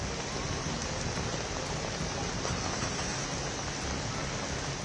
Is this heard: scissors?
no